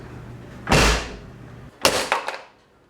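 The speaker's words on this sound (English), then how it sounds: "shut the door and see if it leaks" A 1977 Porsche 911 Turbo Targa door shuts with a firm close, followed by a few quick rattling clunks, close and loud.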